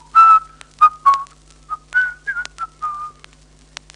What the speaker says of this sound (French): Simplet, lui, se contenta de siffler.